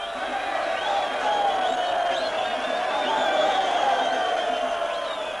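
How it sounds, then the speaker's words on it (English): A huge crowd in Rhodesia welcoming Mugabe home: a dense, steady roar of many voices with rising calls and shouts, loud and continuous throughout. "The biggest crowd ever seen in Rhodesia welcomed home the candidate most feared by the whites."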